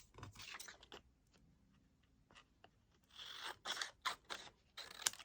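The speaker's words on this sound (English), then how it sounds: "Then you're going to cut across diagonally." Scissors cutting diagonally across paper while making a jester masquerade card: quiet, close snips and crunching cuts in irregular bursts, getting denser toward the end, with no talking.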